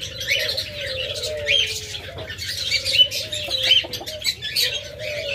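A pair of red diamond doves calls with soft repeated coos alongside chirps from other birds nearby, fairly close and fairly loud with no talking.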